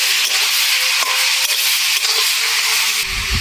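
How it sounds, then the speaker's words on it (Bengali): Mango pickle with salt and turmeric is stirred in a pan, giving a continuous hissing, sizzling scrape with faint periodic taps of the spoon and a louder, rougher stroke near the end. "1 চামচ হলুদ দিলাম, নেড়ে চেড়ে নেব একটু।"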